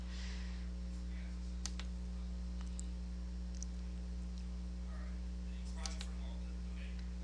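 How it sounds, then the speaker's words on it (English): A computer mouse is left-clicked while tracing points around an applique design in Roland software: sparse, faint, sharp clicks at irregular intervals over a steady low electrical hum. "So again, we're just left clicking."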